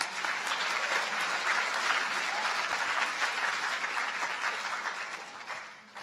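Audience applause at a college new student orientation, a steady wash of many hands clapping that holds evenly for several seconds before tapering off at the end.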